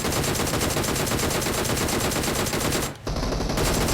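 Rapid automatic gunfire in a shooter video game, a loud, continuous stream of shots that breaks off briefly near the end, then resumes.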